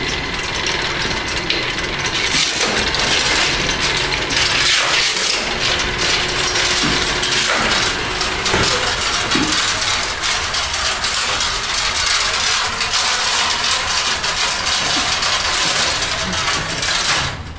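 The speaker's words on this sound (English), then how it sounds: "This vertical conveyor belt is similar to any conveyor belt you guys have seen in either grocery stores or airports" A vertical can conveyor runs steadily in an old canning factory, giving off a dense, continuous mechanical clatter of ratcheting and rattling metal parts. The noise is loud and close, with no voices over it.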